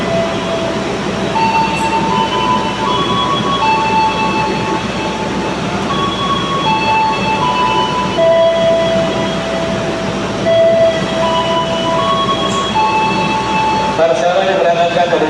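The Pasundan passenger train, bound for Bandung, departs a station platform in Yogyakarta with a loud, continuous rumble of wagons rolling and rail noise, steady throughout, while a public address voice speaks over it.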